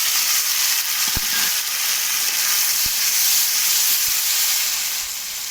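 Potatoes frying with onion, garlic, ginger and tomato paste give off a soft, steady hiss, with a few sharp utensil knocks against the pan.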